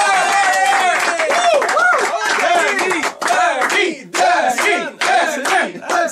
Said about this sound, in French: Et on applaudit Demi Lévesque!